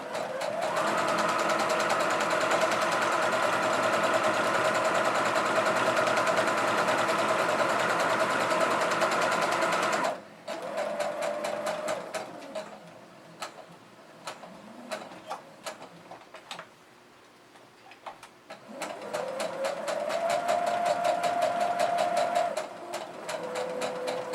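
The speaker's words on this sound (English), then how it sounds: "be very careful on my needle, and I'm just going to back stitch here" A sewing machine back stitches a cross body bag, running in long steady bursts with short pauses between, close and loud with no talking.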